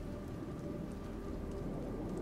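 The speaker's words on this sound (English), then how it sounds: "This place is pretty. Where it's very overcast and raining." Steady rain falls in the Starfield video game on an overcast planet, a dense, even hiss of drops that stays constant throughout.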